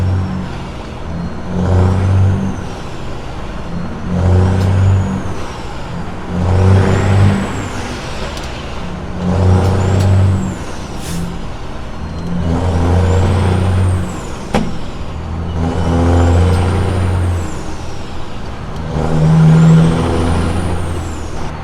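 Busy freeway traffic near an exit lane, heard from inside a truck: engines rise and fall in repeated waves as cars and trucks pass, with air brake hisses and whirring tyres, fairly loud and continuous throughout.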